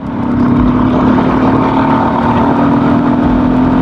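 A KTM Duke 250/390 fitted with a DNA Stage 2 performance air filter revs hard in fifth gear, a loud, close, sustained engine drone with a steady humming tone and no speech over it.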